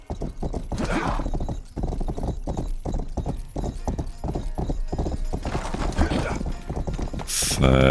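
Horse hooves clip-clopping steadily in the video game Rustler, a brisk rhythmic trot of many close hoof strikes with a brief neigh near the end, heard alone.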